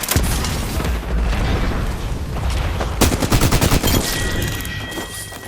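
Rapid gunfire bursts from an Apex Legends match, loud and close, with repeated sharp shots and booming impacts clustered through the middle, stuttering fire near the end, and game effects ringing out at the close.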